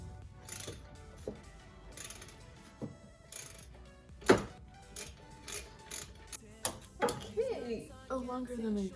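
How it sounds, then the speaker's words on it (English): A ratchet wrench working the 14 mm alternator bolt on a 2003-2008 Pontiac Vibe 1.8L, quiet clicking strokes with pauses, a sharp clunk midway, and someone speaking briefly near the end. "now with the wrench, I'll start with the 14"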